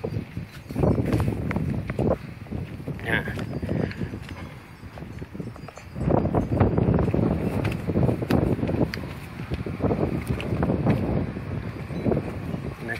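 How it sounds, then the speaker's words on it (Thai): Loud gusts of wind batter the microphone beside the fast-flowing Mekong River, a sustained rough roar rising and falling in waves over several seconds. "โขงก็แรงลมก็แรง"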